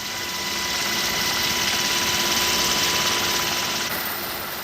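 An army helicopter fighting a fire drones steadily and close, its rotor and engine noise a constant loud roar with a faint high whine throughout.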